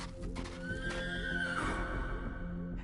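A horse whinnies loudly in a rising then falling neigh, with hooves clip-clopping underneath through a steady outdoor background.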